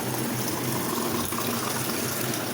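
Water from a tap gushes steadily into a container indoors, a continuous dense rushing flow that stays loud and even for the whole stretch with no voices.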